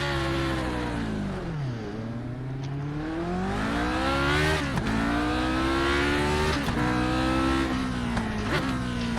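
A Lotus 49 race car in a racing sim game revs hard, its engine tone sweeping up through the gears in repeated rising whines with brief dips at each shift, loud and continuous.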